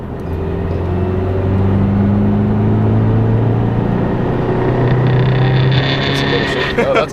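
A lifted Subaru Impreza on Forester struts accelerates hard, its engine a loud, steady droning rumble that climbs in pitch over several seconds.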